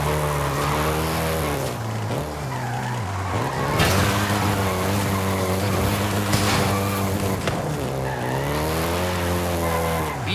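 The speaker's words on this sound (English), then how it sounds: "including the Golf GTI you're driving right now" A Volkswagen Golf GTI driving in the video game Forza Horizon 5, its engine droning loudly and rising and falling through gear changes, with tire squeals and skids along the way and no voices.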